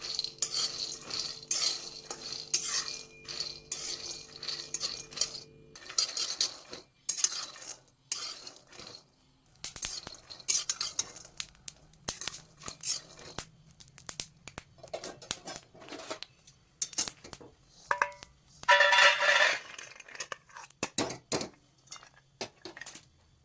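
Half a bowl of peanuts being dry-roasted and stirred in a pan gives intermittent scraping and light metallic clinks of a spoon against the pan, quiet and close, with no voices.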